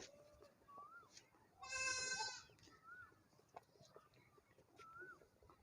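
A farm goat bleats loudly in one long, quavering call after being fed a copper capsule hidden in banana, framed by quieter rustles and small mouth noises close by.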